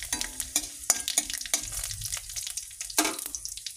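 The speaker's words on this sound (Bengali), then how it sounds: "এই যে তেল দিয়ে দিলাম, মশলাগুলো দিব। এই যে ফোড়নগুলো দিয়ে দিব, পাঁচ ফোড়ন, জিরে, শুকনো লঙ্কা, কালো সর্ষে" Panch phoron, cumin, dry chilli and black mustard seeds sizzling in hot oil, a crackly frying hiss punctuated by sharp stirring clinks and scrapes, close and moderately loud.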